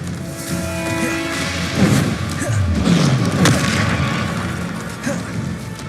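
Bombarda spell explosions from Hogwarts Legacy, loud booming blasts and crashing impacts layered over dense combat noise and game score throughout.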